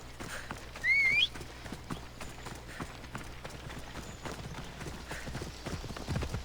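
Hooves gallop steadily in Assassin's Creed Odyssey, a rapid, even clip-clop that runs the whole way, with a short whistle-like call near the start and game ambience underneath.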